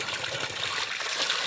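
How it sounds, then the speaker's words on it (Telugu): Chintamani waterfall in a forest near Malluru, Mangapet, heard as a dense, steady rush of falling water, loud and continuous with no break. "ఇది చింతామణి జలపాతం."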